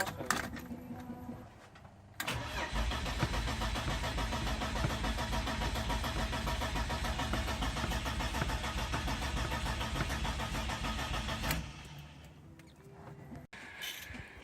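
A BMW E36 with a swapped engine cranks and catches, then runs loud and steady at close range for about nine seconds with some revving before cutting back down to a quieter idle.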